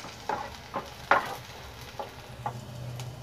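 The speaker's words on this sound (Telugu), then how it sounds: "ఫ్రై అయిన తర్వాత ఇందులో 1 స్పూన్ చిన్నగా కట్ చేసిన వెల్లుల్లి, దీన్ని కూడా బాగా ఫ్రై చేసుకోవాలి." Chopped garlic frying in hot oil for egg Manchurian, a soft low sizzle punctuated by several brief scraping stirs of a spoon in the pan, close and fairly quiet, no talk.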